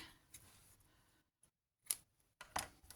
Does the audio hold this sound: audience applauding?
no